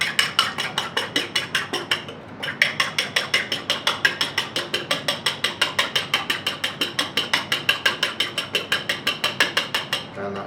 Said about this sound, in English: And give them a good whisk up.